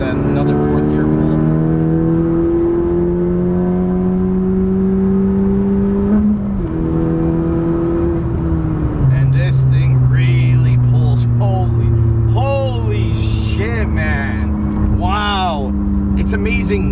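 A 2018 Honda Civic Si with a few modifications pulling hard in fourth gear, the engine note rising steadily with a brief dip partway through, loud and close from inside the cabin while occupants talk.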